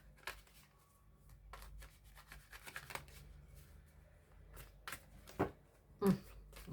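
A deck of fortune-telling cards is shuffled quietly and close by. Soft rubbing and scattered crisp riffle clicks come in irregular bursts, with a few sharper snaps toward the end.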